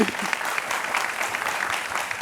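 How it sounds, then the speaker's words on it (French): Audience applauding, a dense, even wash of many hands clapping at a steady level for the full span, with no voices rising above it. "Alors, on applaudit pour lui."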